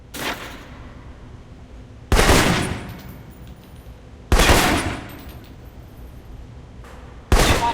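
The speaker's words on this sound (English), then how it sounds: "For long-range encounters, the assault rifle's the key." Assault rifle fire in Alpha Protocol, four short loud bursts spaced a couple of seconds apart, each fading into a brief echo, with no talking.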